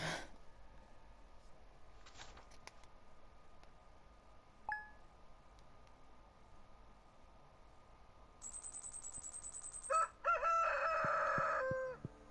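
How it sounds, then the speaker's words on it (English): Rooster crowing in the Stardew Valley farming video game, a clear loud cock-a-doodle-doo near the end, preceded by quiet game ambience, small chimes and a bright tone. "Cock-a-doodle-doo."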